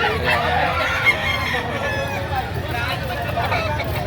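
Chickens cluck and squawk close by while people talk over them, the birds' calls mixing with the voices throughout.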